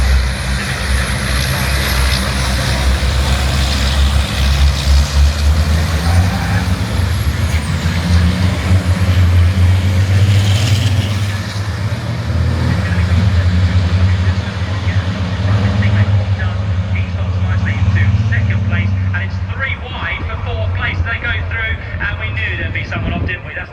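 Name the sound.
racing trucks starting a race at Brands Hatch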